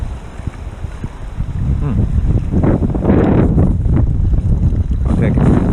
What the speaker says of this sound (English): It's just windy and cold